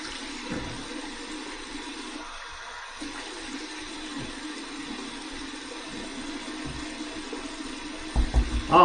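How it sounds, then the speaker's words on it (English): Cold water running as a rinse after a head shave, a steady close hiss and splash of flowing water, with a few louder splashes near the end. "I'm going to throw some cold water up there to close the pores. Okay, so here's my cold water rinse."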